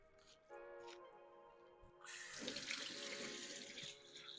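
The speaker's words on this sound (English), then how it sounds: "I'm gonna wash my hands" Hands are washed under a running kitchen sink tap while cooking salmon: a faint stream starts, then a louder, steady gush of splashing water continues to the end.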